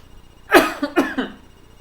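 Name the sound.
cough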